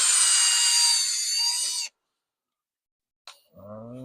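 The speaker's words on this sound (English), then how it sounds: "So we'll just adjust with the drill." A power drill whines loudly and steadily while adjusting a part for a battle bot build, then cuts off abruptly; after a pause a brief click and a low rumbling tone follow.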